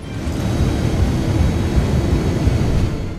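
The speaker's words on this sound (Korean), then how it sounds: "그렇게 비행기는 이륙하게 되는데" Rumbling roar of an airplane taking off in a zombie movie, a steady loud broadband engine and air noise running unbroken throughout.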